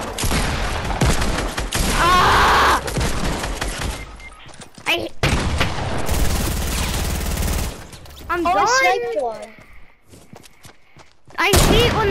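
Gunfire in the video game Fortnite, including sniper rifle shots, comes as loud bursts and rapid volleys with thuds, taking up much of the stretch and sitting close and harsh in the mix.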